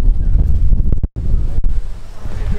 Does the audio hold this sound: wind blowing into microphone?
yes